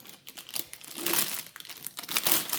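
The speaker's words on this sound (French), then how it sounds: "j'ai enlevé le papier qui fait du bruit" Close, crisp crinkling of paper wrapping being removed from a small purple vanity case of a diamond painting kit, in quick, uneven bursts of rustle with no voices.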